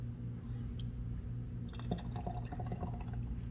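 Thick homemade tomato sauce pours steadily from a container, giving a soft continuous liquid flow with faint glassy drips and trickles, close and fairly quiet, with no talking.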